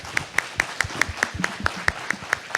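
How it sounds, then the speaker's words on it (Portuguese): Audience at an innovation and technology panel event applauds the guests, with sharp, fairly evenly spaced claps standing out over a steady background clatter of many hands. "Queria uma salva de palmas para os nossos convidados."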